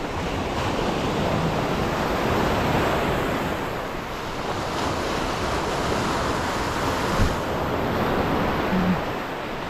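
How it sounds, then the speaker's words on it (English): Ocean waves surge and wash onto Agate Beach on a winter day, a steady, broad roar of surf mixed with gusty wind buffeting the microphone, with no one speaking. "I like the waves."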